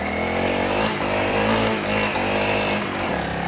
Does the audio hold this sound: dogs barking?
no